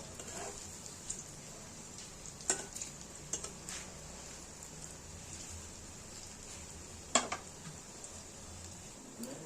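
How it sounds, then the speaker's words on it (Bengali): Potato and onion fritters fry quietly in a pan, giving a faint sizzle under occasional clicks and taps of a utensil as they are flipped. "ঠিক এক সাইড এইভাবে উল্টে আমরা ভেজে নেব।"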